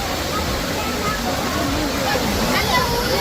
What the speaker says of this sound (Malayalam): വെള്ളത്തിൻ്റെ സൗണ്ടൊക്കെ അടിപൊളിയായിട്ട് കേൾക്കാണ്ട്